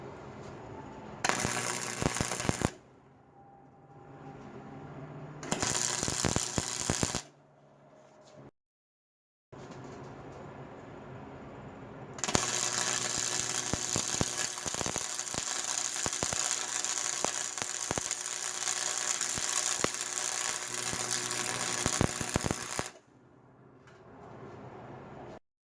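Flux-core arc welding with a Harbor Freight 125 welder on a small miter-cut joint, close, harsh crackling and sputtering in two short bursts, then a longer continuous run of buzzing arc.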